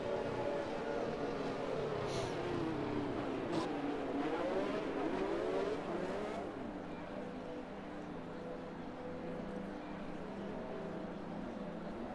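McLaren race car engine in a racing game: a continuous high engine whine with rising and falling pitch as it accelerates and shifts, steady and moderately loud under a faint hum.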